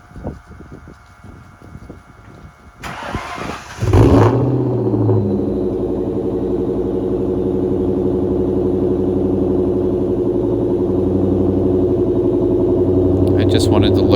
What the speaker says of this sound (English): wanted to take the Cobra out for a drive again